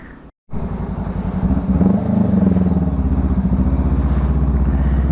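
A Honda Rebel 500 motorcycle pulls away on a ride, its engine note rising after a brief cut, then settling into a steady, loud, close rumble that holds to the end.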